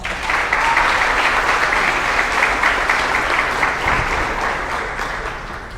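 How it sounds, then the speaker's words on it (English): A crowd at the 2024 Jackson County Fair royalty contest gives a loud, sustained round of applause, a dense even roar of clapping that tapers slightly near the end. "Let's give them all a round of applause."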